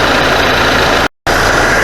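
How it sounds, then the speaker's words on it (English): A car engine idles steadily with the air conditioning running during a thermostat test, a loud, close, constant hum that drops out briefly for a moment before resuming. "after we run the engine for a while with the AC on"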